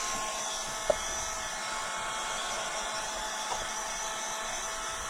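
Heat gun or hair dryer blowing over freshly painted MDF during a craft session, a steady close whooshing drone throughout with a faint tap or two on top.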